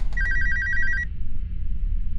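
A telephone in the horror game Alone gives one loud electronic trilling ring that stops, and another ring starts right at the end, all above a steady low ambient rumble.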